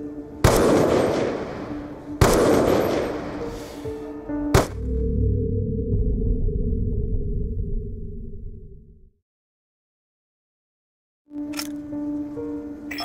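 Gunfire in Call of Duty Black Ops 2: two heavy, booming shots a couple of seconds apart and a sharper third crack, each trailing into ringing reverberation, then a tonal drone, silence and a renewed swell.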